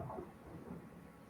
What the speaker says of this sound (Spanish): Claro, se escuchó el rayo